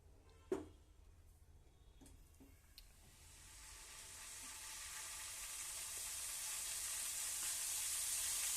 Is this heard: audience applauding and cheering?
no